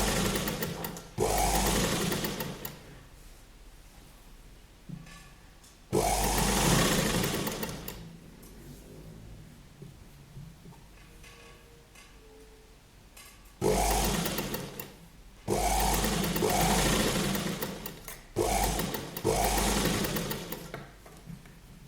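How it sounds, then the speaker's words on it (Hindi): A sewing machine stitches a placket strip for a kurti in several loud bursts of rapid whirring, separated by quieter pauses, close to the microphone. "ये वाली पट्टी पर हमारी सिलाई चलेगी"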